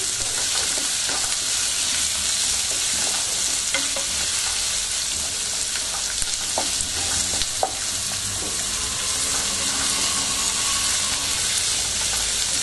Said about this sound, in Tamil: ஆனியன் நல்லா ப்ரௌனா ஃப்ரை ஆகணும், அப்பதான் நல்லா இருக்கும்